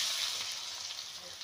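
Green chilies frying in oil in a kadhai over a village wood stove, a steady hissing sizzle, close and even, with no clear voice over it.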